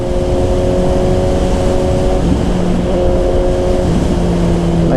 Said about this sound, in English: Got to rev it up higher when you're taking off.